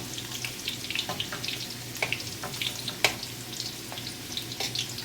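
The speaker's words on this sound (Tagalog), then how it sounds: "So, ipa-fried natin yung potato." Potatoes frying in a pan for a fish curry with carrots, a steady close sizzle with scattered crackles and small pops, with no voices.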